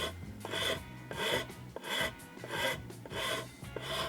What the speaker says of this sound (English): What I'm using here is a dragon rasp, it's called.